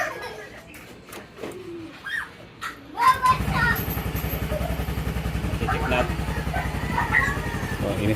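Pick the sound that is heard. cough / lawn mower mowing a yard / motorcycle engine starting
motorcycle engine starting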